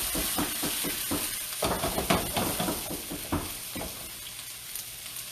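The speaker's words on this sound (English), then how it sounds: "Again, you want to get that sizzle. I mean, that means your pan is really hot." Kale sautés in a very hot pan, a steady hiss of sizzling with a series of soft knocks and stirring clatters, close and moderate, easing toward the end without speech.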